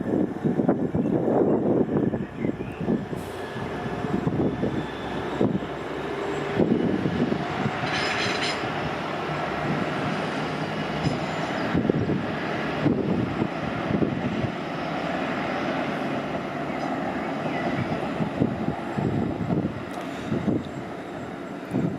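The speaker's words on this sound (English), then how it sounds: "that's a Grand Central service, probably heading towards London's King's Cross" Grand Central passenger train rolling past the Moat Hills level crossing, a loud close rumble and clatter of wheels that swells, holds and then slowly fades, heard without any talk.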